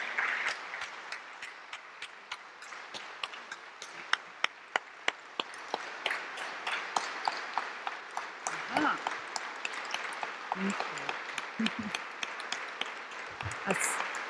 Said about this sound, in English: Help me to receive her with a warm round of applause.